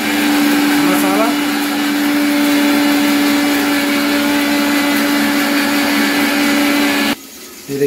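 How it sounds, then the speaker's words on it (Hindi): A kitchen mixer grinder runs on spice masala with a little water, a loud steady whirring whine with a humming tone that continues for about seven seconds, then cuts off abruptly. "मिक्सी में घर घर पिसा रहा है"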